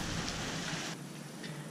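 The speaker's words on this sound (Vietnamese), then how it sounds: "Mưa quá trời mưa luôn." Heavy rain falling at an outdoor fishing spot makes a quiet, continuous broadband hiss that thins slightly partway through.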